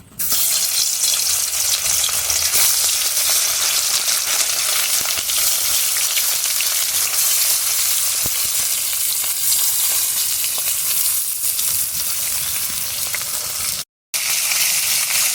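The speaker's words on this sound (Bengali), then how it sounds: "এবার মাছগুলো ভেজে দেবো" Fish frying in smoking-hot oil in a kadai, a steady, loud, dense sizzle and crackle that runs unbroken, with a brief cut near the end.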